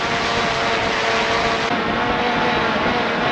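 A DJI Air 2S drone flies back on return to home, its propellers giving off a loud, steady high-pitched whir that holds constant and close throughout.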